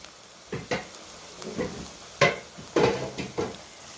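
Onions frying in a pot as ginger and garlic paste goes in, a soft steady sizzle broken by several sharp stirring scrapes and pot clanks, close up with no talking.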